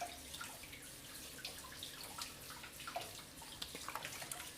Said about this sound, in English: Alright, I'm washing my hands.